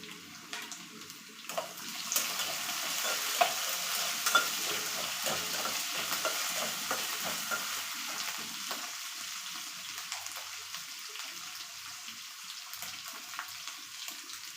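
Garlic paste and a couple of raw mango pieces frying in a hot pan give a steady, close sizzle with scattered crackles and a few stirring scrapes, continuing for the whole stretch with no one talking.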